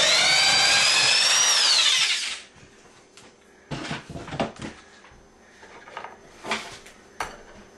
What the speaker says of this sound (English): I'm going to drill a hole here and a couple holes